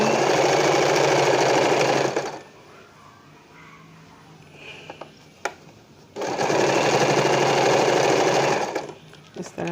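A sewing machine stitches a pleat in a salwar, running in two loud, close bursts of rapid mechanical whirring separated by a quiet pause with light handling clicks.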